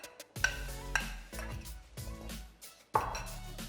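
A chickpea omelette mixture is stirred in a pan, with a utensil scraping and clinking against the metal in a few separate strokes, close and soft.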